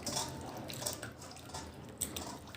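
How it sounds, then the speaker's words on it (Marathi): Soft splashing and sloshing of water as potato slices are swished around in a bowl, quiet and close, with small drips and clinks. "व्यवस्थित असे ह्या पाण्यात आपल्याला धुवून घ्यायचे"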